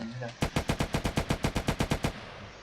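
A rapid burst of about fourteen evenly spaced gunshots rings out, loud and sharp, like automatic fire in an airsoft match in GTA.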